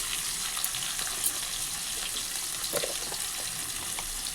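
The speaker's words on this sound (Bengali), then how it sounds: "দিয়ে আলুগুলো একটু ভাজা ভাজা করে নেব" Potatoes with nigella seeds, salt and turmeric fry in hot oil in a pan, giving a soft, steady crackling sizzle with faint clinks, close and continuous without talk.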